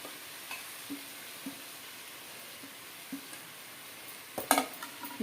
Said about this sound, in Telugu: ఇవి అన్నీ కలిపిద్దాము మొత్తం కలిసేట్టుగా కలుపుకోవాలి